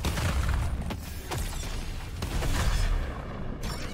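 Dense volley of grenade blasts in Deep Rock Galactic Survivors, booming low-end explosions overlapping one after another in a continuous loud barrage with sharp transient cracks throughout.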